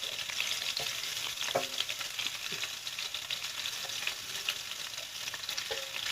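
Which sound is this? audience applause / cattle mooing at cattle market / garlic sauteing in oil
garlic sauteing in oil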